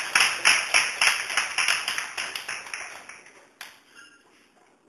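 Classroom of students clapping together in a quiz-style ESL lesson, a run of quick rhythmic claps that gradually thins and fades out, with a brief louder clap near the end.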